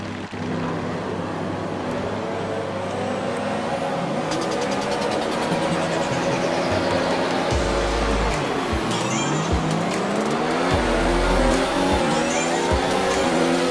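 Formula 1 cars in a Singapore race start in a racing video game, loud overlapping high engine whines rising and falling through gear changes as several cars sweep past.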